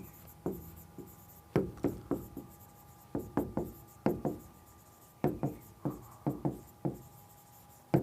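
Chalk or marker writing on a board during a tajweed lesson: clusters of short taps and scrapes in irregular bursts, close and fairly quiet, with a faint steady hum behind and no talk.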